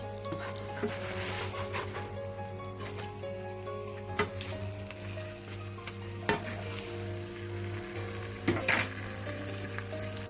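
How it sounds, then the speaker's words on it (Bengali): A keema paratha sizzles steadily in a hot pan over a low background hum, with occasional scraping and clinking as it is turned and stirred. "প্রথমে এটা দিয়ে দিচ্ছি তারপর আমি পরোটাটা ভেজে নেবো"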